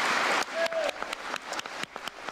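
An audience claps after a speech, a burst of dense applause that thins into scattered, uneven claps within a couple of seconds, fairly near and unaccompanied by talk.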